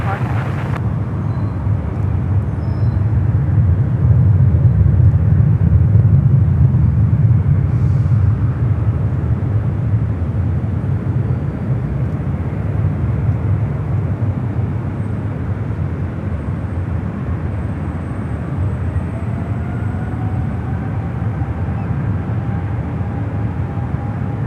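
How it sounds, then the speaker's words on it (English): United Boeing 777 in Star Alliance livery on its takeoff roll at San Francisco airport, a loud broad jet roar that swells early, holds steady, and slowly thins out. "That 777 in the Star Alliance livery now rolling down to 28 left."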